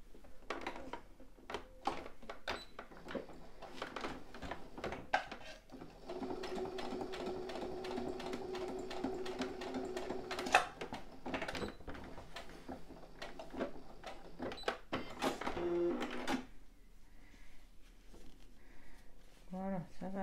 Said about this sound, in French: je vais refaire une petite couture